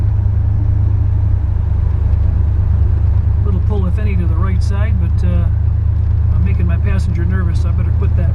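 A 1956 Chevy Bel Air rolls along with a heavy, constant low engine and road rumble from inside the cabin, as someone talks over it.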